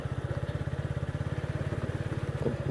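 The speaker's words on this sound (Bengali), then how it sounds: "তবে ধীরে ধীরে মোটরসাইকেলটি ড্রাইভিং করে যাওয়ার চেষ্টা করব" A motorcycle engine throbs in a fast, even pulse at moderate loudness as it moves slowly along a rain-slick countryside road in Sylhet, Bangladesh, with light road noise beneath.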